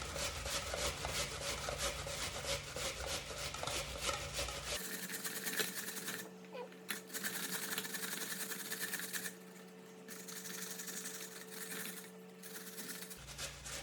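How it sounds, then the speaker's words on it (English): Medium yellow onion grated on the large holes of a box grater, heard as fast, rhythmic rasping strokes, close and fairly faint, that stop partway through and leave a quiet background hum. "using that grater and the larger side of it, you just grate your onion"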